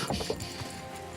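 A horse in a video game clip-clops in quick, light hoofbeats at low volume, a soft steady patter of steps under a faint background.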